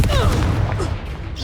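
A Confringo blast spell explodes in the Hogwarts Legacy video game, a dense booming burst with rolling low rumble and crackle, loud and close, mixed with game effects and faint voices.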